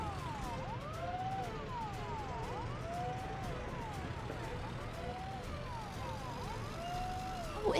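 Wailing ambulance siren from Workers & Resources: Soviet Republic, rising and falling in steady repeated sweeps over a low engine hum, continuous and fairly prominent, with a brief louder burst at the very end.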